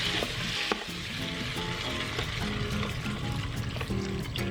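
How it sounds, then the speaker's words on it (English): Chicken broth poured from a 32-ounce box into an Instant Pot of Zuppa Toscana soup, a steady wet rushing and sizzling pour close up that runs without a break and with no talking. "go ahead and pour a 32-ounce box of chicken broth to the mix"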